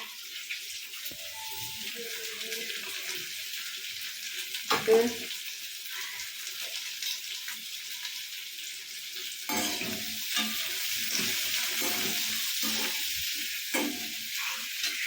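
Green chili and ginger sauté in a pan for crab gravy, a continuous close sizzle with occasional stirring scrapes and a brief clatter near the middle, getting louder toward the end.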